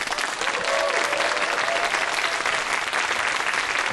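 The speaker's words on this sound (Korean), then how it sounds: "큰 박수로 맞이해 주십시오" A large audience applauds to welcome a lecturer onto the stage at a science lecture, steady, dense clapping filling the hall throughout, with a faint voice briefly audible beneath it.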